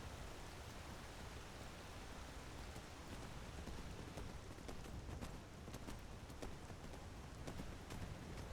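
Horse hooves clip-clop steadily in Skyrim, a run of evenly spaced clicks half buried under a constant loud wash of rain-like noise.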